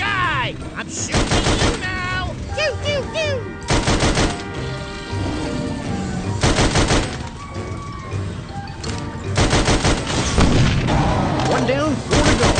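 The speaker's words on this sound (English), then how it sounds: "Hey, big guy! I'm shooting!" Rapid bursts of gunfire ring out in the video game Sam & Max: This Time It's Virtual, loud repeated volleys layered over music, effects and character voices.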